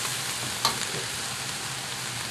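Onions tossed into a hot wok with eel, a loud, steady close sizzle with one brief clink of a utensil early on.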